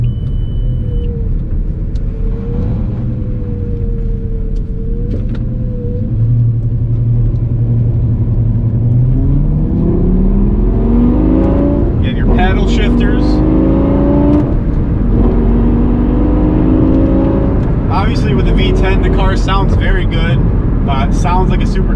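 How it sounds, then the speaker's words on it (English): A 5-liter V10 engine in a 2004 Lamborghini Gallardo revs and accelerates, its pitch climbing through gear changes, loud and close, with a voice speaking over parts of it. "The Lamborghini is powered by a 5-liter V10 pushing out 494 horsepower."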